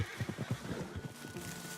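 A horse in the video game Red Dead Redemption 2 gives a rough, fluttering whinny close by, quiet in the mix, trailing off into soft ambient game sound.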